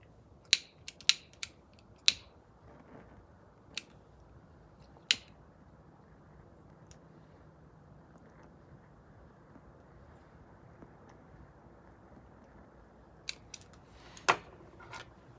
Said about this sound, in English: Here is my first time cutting a plug.